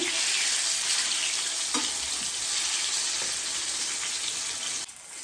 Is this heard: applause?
no